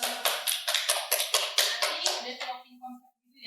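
A small group of people claps for a guest on a coffee business podcast, around a dozen distinct, close hand claps in an uneven rhythm that tapers off, followed by a brief voice.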